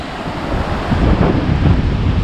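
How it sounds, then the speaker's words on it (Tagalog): Strong ocean waves surge and crash at Balagbag Beach in Real, Quezon, a loud continuous roar of surf mixed with heavy wind buffeting the microphone, building slightly in force toward the middle. "Ang lakas ng alon."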